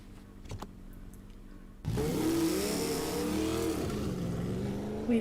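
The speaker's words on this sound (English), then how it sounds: "he jumped onto his motorcycle and took off. The telling and engine sounds faded into the night." Motorcycle engine in a game sound effect, starting abruptly after near silence and then revving with rising and falling pitch as the bike pulls away, loud and close, with no voices.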